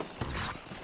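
Hooves of a horse being ridden in Red Dead Redemption on PS3, a brief close clatter of steps under a rough, noisy ambience.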